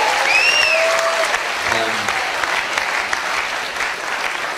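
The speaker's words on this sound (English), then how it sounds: "Round of applause for Mr. Hopkinson again." A live comedy crowd at the Assembly Rooms in Edinburgh breaks into dense, loud applause that carries on steadily throughout, with a few whoops early on and no speech over it.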